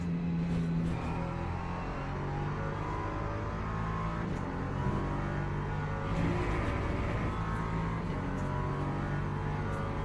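Racing car engines in a racing video game at Monza, with Porsches battling closely, a steady loud engine drone with layered revving tones and no talk.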